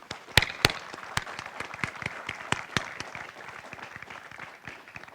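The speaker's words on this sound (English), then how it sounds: "Can we give them a round of applause for the soldiers out here on the field?" Applause for soldiers at an outdoor field artillery brigade ceremony: scattered, moderately distant clapping with a few sharp, louder claps standing out near the start and thinning toward the end.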